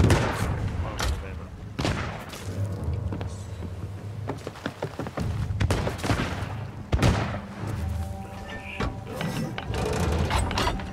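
Sea of Thieves ship cannons fire during a fort raid, booming shots scattered across the span with mechanical clatter and game ambience between them, fairly loud and near.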